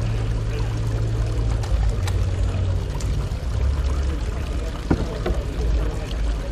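Two-part PU expanding resin is poured into a tube at a No-Dig trade show demonstration, a soft pouring and gurgling sound over a low background rumble of the exhibition hall.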